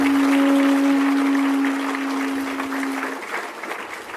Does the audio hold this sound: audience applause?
yes